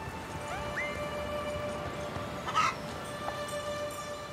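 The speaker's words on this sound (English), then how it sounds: "four of my chickens escaped from the coop this morning" Chickens cluck softly in the video game Unicorn Overlord, with brief calls over a constant ambient backdrop and a slightly louder burst near the middle.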